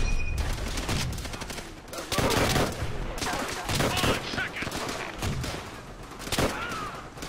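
Dense, continuous gunfire from Call of Duty: World at War, with rapid automatic bursts and overlapping shots in a loud, sustained barrage of combat noise.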